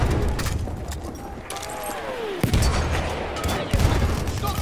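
Gunfire and booming explosions from a World War I battle video game set at Amiens, with bursts of shots and sharp blasts crowding a busy, continuous battlefield din.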